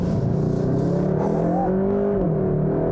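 A 2021 Kia K5 GT sedan with a 2.5-litre turbo engine accelerates hard from inside the cabin, a loud, steady, rising engine drone with climbing harmonic tones throughout.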